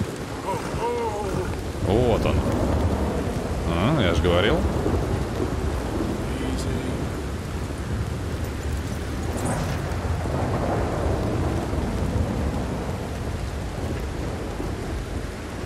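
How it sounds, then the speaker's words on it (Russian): Heavy rainstorm with rolling thunder in Red Dead Redemption 2, a steady dense wash of rain with low rumbles swelling around the middle, running throughout with no talk. "Тут ливень просто жуткий."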